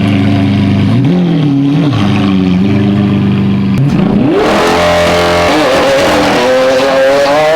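An exotic rental car's engine revs loudly at the SEMA 2019 show, rising and falling in pitch, then surges upward as the vehicle accelerates hard and close by.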